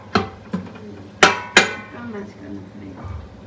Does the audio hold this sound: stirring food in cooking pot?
yes